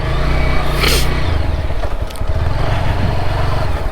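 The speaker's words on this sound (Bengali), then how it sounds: "বাইক নিয়ে যেতেছি" A motorbike ridden on a road around Sajek Valley, its engine droning loudly and close throughout, with a rough low rumble and a brief rush of wind or passing noise near the start.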